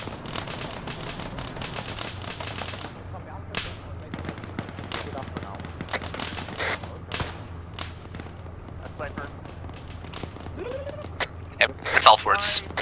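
Scattered gunfire in the Arma 3 military game, sharp cracks and short bursts, some distant and some closer, heard under frequent radio-style team talk over a low steady hum.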